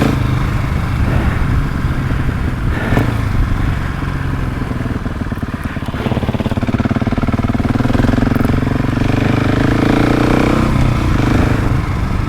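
A Husqvarna 701 Enduro single-cylinder motorcycle accelerates hard off-road, its loud, close engine roaring and rising in pitch with a brief dip mid-way before revving up again, clattering mechanical noise over the top.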